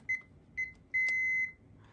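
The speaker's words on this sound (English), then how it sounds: "If you hear 2 beeps, it's already stored." Three short electronic beeps from a Panasonic KX-TCM422 cordless phone: two quick ones followed by a longer sustained tone, clear and close, in quiet surroundings.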